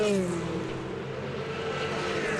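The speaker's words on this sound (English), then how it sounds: "Car's running through a bit of a debris field there as well" A race car at the Monza circuit during the 4 Hours of Monza 2022 endurance race sweeps past with a high engine whine whose pitch slides steadily downward, fading slightly as it passes at moderate distance.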